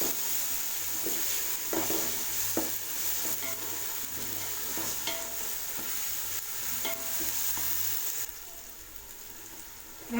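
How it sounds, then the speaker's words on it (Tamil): Shallot paste and onions sauté in a pan for a chicken dum biryani, a soft steady sizzle broken by intermittent scraping stir strokes, fairly quiet and without speech. "வெங்காயம் பாருங்கள் ஃப்ரெண்ட்ஸ் நல்லா வதக்கிட்டேன்"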